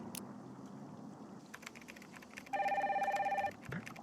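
A telephone rings in the Nancy Drew game Danger By Design, one clear electronic trill lasting about a second over quiet ambience, preceded by faint clicking sounds.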